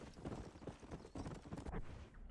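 Hooves of a horse in Red Dead Redemption clip-clop in a quick, even trot, low and fairly quiet against the game's background.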